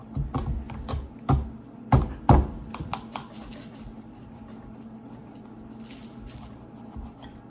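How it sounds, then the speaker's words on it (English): Kitchen knife stabbed repeatedly along a planned cut line, a series of sharp close taps and thuds in the first few seconds, then only faint room noise. "Stab it along the line that you intend to cut a few times."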